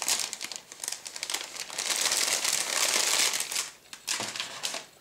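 Plastic bag holding model kit decal sheets for a 1:48 He 111H-3 bomber crinkles and crackles continuously at close range, with a steady busy rustle that briefly dips before resuming.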